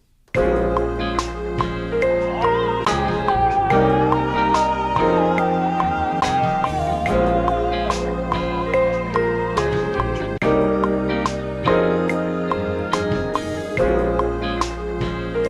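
A looped, chopped musical sample plays continuously, with repeating melodic phrases and sharp cuts between segments, no voices or drums.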